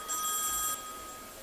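A telephone rings after a number is dialed, one loud electronic ring burst followed by a quieter fading tone, with no talking.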